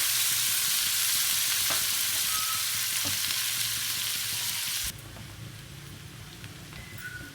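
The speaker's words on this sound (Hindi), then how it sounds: "सेम पैन में सेम ऑयल में हम प्याज फ्राई कर लेते हैं" Onions fry in hot oil in a pan with a loud, dense, continuous sizzle that suddenly drops to a softer, steady hiss partway through.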